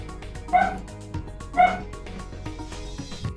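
A pet dog lets out two sharp yippy barks about a second apart, close by indoors over a low background hum.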